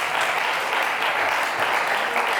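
Applause from guests at a civil wedding ceremony in Brazzaville, a steady continuous wash of many hands clapping at once, fairly loud and even throughout, with no pauses.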